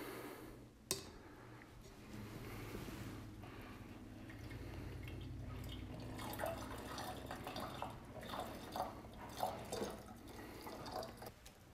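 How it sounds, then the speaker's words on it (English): Water kefir grains slide through a large funnel into a jar of sugar water, giving wet splashes, drips and trickles that grow busier in the second half, fairly quiet with a sharp knock early on. "we can go ahead and add our grains back in using our large funnel"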